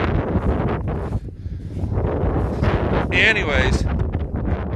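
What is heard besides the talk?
strong wind blowing on a cattle farm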